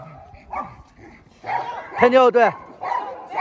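Pet dogs at a mountain home bark and yip in short bursts at close range, with a whimpering note between, while a person talks over them.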